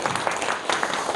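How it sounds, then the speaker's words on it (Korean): Church congregation during a Sunday worship service giving a brief round of encouraging applause, a short dense burst of clapping from many people at a steady level. "우리 한번 우리 격려의 박수를 한번."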